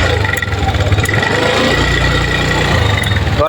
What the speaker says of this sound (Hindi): ये भीतर का केम चेन होता है, वो केम चेन का साउंड है।